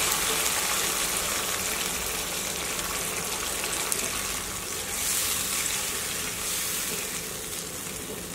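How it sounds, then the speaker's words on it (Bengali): Water pours into a Bengali-style sour fish curry made with aair fish, giving a steady, close hiss and bubbling sizzle that holds at an even level throughout, with no voices. "ঝোলের জন্য পানি দিয়ে দিব।"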